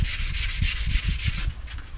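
Rough wood on a homemade dog gate being sanded by hand in quick rhythmic back-and-forth strokes, a close, steady gritty rasp with no voices.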